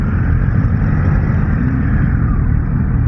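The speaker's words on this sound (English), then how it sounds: "Now the sound of the bike is not bad." A Suzuki GSX-8S naked middleweight motorcycle engine runs at a steady idle, a loud, continuous low rumble close by, with no voices.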